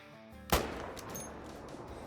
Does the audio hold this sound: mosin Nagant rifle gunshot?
yes